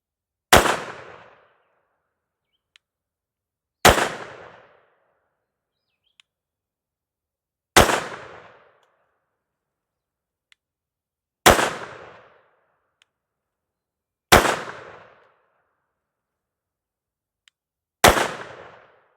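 A .22 WIN Mag handgun fires jacketed hollow point rounds outdoors: six sharp, loud single shots spaced evenly about three and a half seconds apart, each ringing off in a short decaying tail with quiet between.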